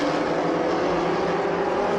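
A steady, loud engine drone from vintage racing cars, including an Audi, as they accelerate into a left-hand corner at Sebring. The tone is unbroken, with no clear pass-by.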